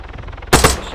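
A short burst of gunfire erupts halfway through, loud and close, aimed at a helicopter in the military video game Arma 3; before it, a steady low droning hum runs alone.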